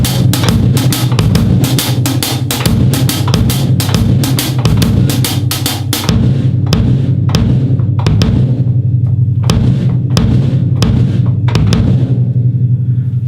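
A drum kit playing a groove, with crisp, evenly spaced hi-hat or cymbal strikes over a driving bass drum pattern, loud and close; the playing thins to sparser hits partway through.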